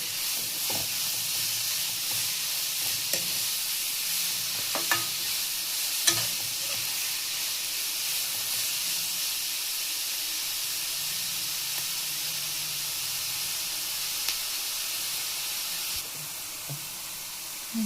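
Beetroot frying with salt in a pan, a continuous soft sizzle and hiss running steadily throughout, broken by occasional light clicks and scrapes of stirring, with no voices.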